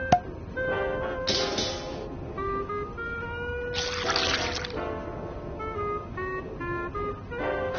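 Liquid pours and trickles in the video game Grim Fandango, a soft flowing sound under music with sustained tones, moderately quiet throughout.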